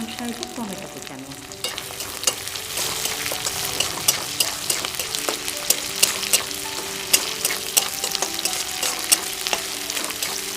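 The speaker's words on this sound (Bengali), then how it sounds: "এবার এগুলো একটু ভেজে নেব।" Garlic paste and chopped tomato fry in a pan on the stove, a steady close sizzle that runs the whole time, with sharp pops and the clicks of stirring scattered throughout.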